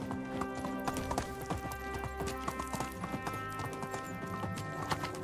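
Horse hooves clip-clop in a steady trotting rhythm while riding in the medieval game Medieval Dynasty, layered over continuous dense game music and ambience.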